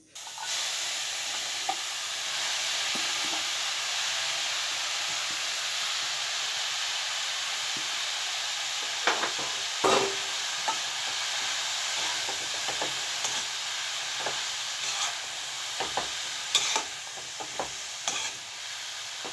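Washed mustard greens stir-fry in a hot wok, a steady loud sizzle and hiss running throughout with occasional clinks and scrapes of stirring toward the end.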